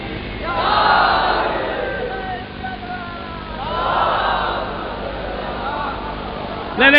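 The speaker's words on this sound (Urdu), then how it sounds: "آپ علی علی کر رہے ہیں نا" Crowd at a religious gathering in Mubarakpur chanting "Ali Ali" in two swelling waves, loud and reverberant, with a brief sharp burst at the very end.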